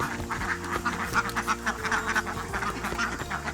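Several ducks quacking together nearby, a continuous chorus of overlapping nasal calls, loud and close.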